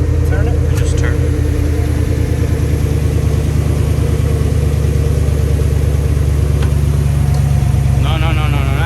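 A car engine starts and settles into a loud, steady idle just after a new alternator is fitted, a close, droning rumble that continues throughout, with people talking over it.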